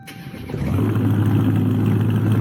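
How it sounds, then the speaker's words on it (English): A Dodge Charger Hellcat Redeye in a video game starts up and revs, with a loud, steady engine roar that builds after a brief start and holds strong throughout. "Same startup here. Same rev and flame sounds."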